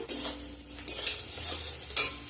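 Egg and boiled pasta are stirred in a frying pan over onion and carrot in hot oil, giving a steady sizzle broken by three sharp scraping strokes of a utensil.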